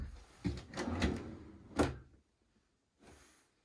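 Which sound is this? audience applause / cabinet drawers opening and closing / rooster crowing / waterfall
cabinet drawers opening and closing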